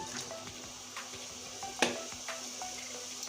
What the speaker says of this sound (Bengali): ভিতরে এই ভেজে রাখা করলার আলুটা আমি এখন দিয়ে দিচ্ছি